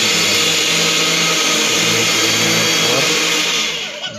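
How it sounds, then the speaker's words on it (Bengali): A kitchen mixer grinder whirs loud and close as it grinds biscuits into powder, a steady motor roar that holds constant before easing slightly at the end. "তারপরে মিক্সারের মধ্যে দিয়ে দেব বিস্কুটটা, দিয়ে মিক্সারে লাগায়"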